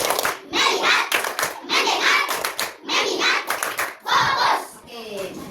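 A class of children doing the 'tepuk fokus' clapping game in a classroom, repeated bursts of fast group clapping in clusters with short pauses, young voices audible between them.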